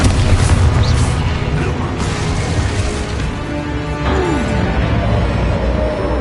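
Spell blasts in a video game land as a dense run of booming explosions and bursts, loud and continuous, with layered rumble and crackle throughout.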